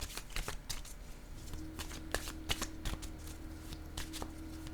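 Playing cards shuffled ahead of drawing a single card in a tarot-style reading, a run of crisp riffling flicks and soft slaps close by with no voices.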